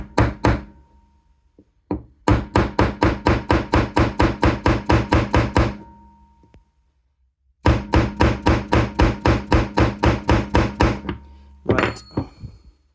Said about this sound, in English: I'm just using my favourite hammer for this type of thing. We'll just give it a knock and see what happens.